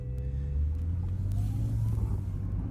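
A used car out on a quick test drive gives a steady, loud low engine rumble with road noise, holding an even pace throughout and no talking.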